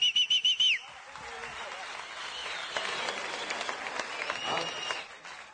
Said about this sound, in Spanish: Un aplauso al supernegrito, ven.